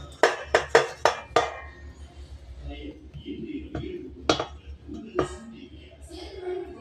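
Akki roti dough is patted thin on an oiled plate, starting with a quick run of sharp metallic slaps on the plate, then softer, scattered pats and clinks, with talking faintly underneath.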